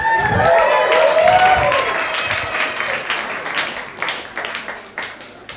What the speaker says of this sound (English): With a bit of a cheer from the audience.